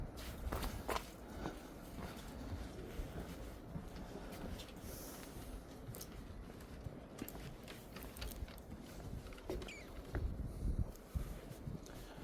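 Footsteps walk steadily along a wooden pier in a small harbor with tiny moored boats, a continuous crunching, thudding tread close by with no talk.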